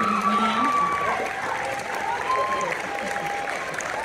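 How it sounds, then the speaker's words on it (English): Audience applause at a documentary celebration event, a steady wash of clapping from a crowd with scattered cheers and tonal whistles or calls over it, continuous and fairly full for the whole stretch. "Give a round of applause, Tony White"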